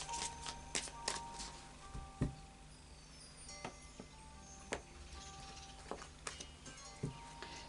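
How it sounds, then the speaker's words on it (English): Tarot of Dreams cards being shuffled by hand, quiet irregular riffling and soft snapping taps spread across several seconds, close and faint, with no talk. "So a final shuffle of the Tarot of Dreams."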